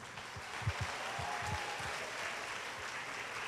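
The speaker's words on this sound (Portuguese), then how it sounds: "Uma salva de palmas, gente." Applause from a lecture audience, a fairly faint, even wash of clapping heard from a distance, with low thumps and murmurs scattered beneath it throughout.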